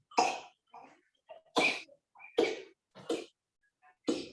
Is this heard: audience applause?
no